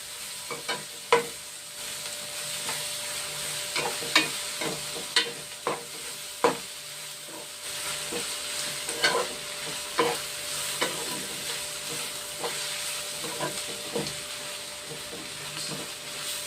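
Ginger paste and turmeric frying in a pan, a continuous hissing sizzle punctuated by sharp scraping knocks of a spoon stirring at irregular intervals.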